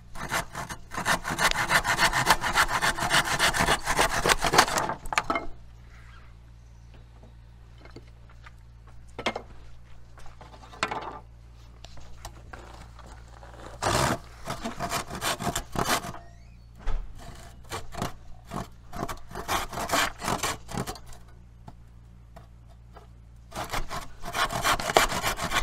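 Wood trim being sawn into kindling by hand, bursts of rhythmic, rasping back-and-forth strokes that start, pause and resume, close and loud, with quieter scraping and knocking between the sawing runs.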